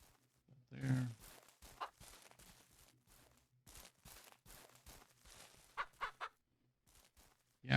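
Faint chicken clucks come and go among soft footstep-like thuds, quiet and sparse, with a louder squawk near the start, in the video game Ranch Simulator.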